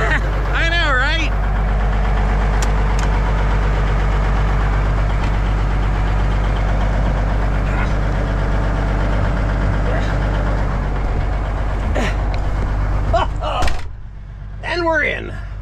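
An old truck called Stubby, with an N14 diesel engine, idles with a loud, steady rumbling throb that runs near and constant throughout, with brief voice-like chirps at the start and a dip near the end.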